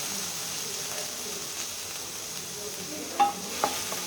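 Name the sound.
crushed garlic frying in oil until golden brown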